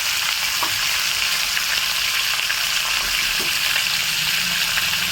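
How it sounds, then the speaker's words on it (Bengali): Chicken meat frying in a wok with very little oil gives a loud, steady, close sizzle that holds throughout, with faint stirring scrapes mixed in. "তো আমি এখন কড়াইতে মাংসটা দিয়ে দিচ্ছি প্রথমেই।"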